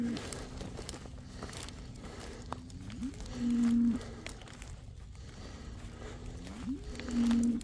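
Cows and a calf on a farm moo in two drawn-out calls several seconds apart, fairly close, over a rustling, crinkly outdoor background.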